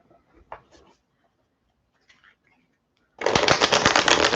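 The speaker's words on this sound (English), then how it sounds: "Let me pull some cards on that" Tarot cards are shuffled in a loud, close, dense riffling burst that comes after several seconds of near silence with a few faint taps.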